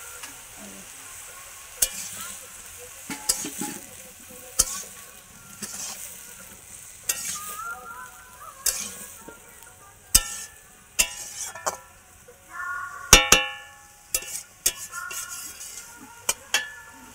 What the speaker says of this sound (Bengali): এটা ঢাকা মেরে মেরে লাল করে একটু ভাজা হবে